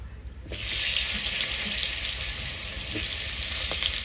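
Plantain pieces dropped into leftover hot oil burst into a loud, steady sizzle after a brief quiet moment, hissing continuously to the end.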